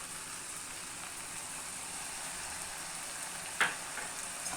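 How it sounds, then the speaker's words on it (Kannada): Boiled noodles sizzle in a pan with tomato ketchup and soy sauce, a steady, close frying hiss with a single sharp clink partway through. "ಇದಕ್ಕೆ ಬಾಯ್ಲ್ಡ್ ನೂಡಲ್ಸ್ನ ಹಾಕೋತಾ ಇದ್ದೀನಿ. ಆಮೇಲೆ ಸ್ವಲ್ಪ ಟೊಮ್ಯಾಟೊ ಕೆಚಪ್, ಆಮೇಲೆ ಸ್ವಲ್ಪನೇ ಸೋಯಾ ಸಾಸ್ನ ಹಾಕೋತಾ ಇದ್ದೀನಿ"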